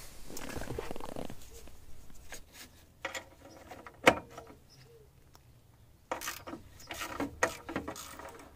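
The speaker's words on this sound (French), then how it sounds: "À l'aide d'une douille de 10, vous allez dévisser ce boulon." A 10 mm socket ratchet loosening the bolt that holds the fuel filter cover on a Renault Mégane 3: quiet, close mechanical clicks and ratcheting in short irregular bursts, with faint handling noise between.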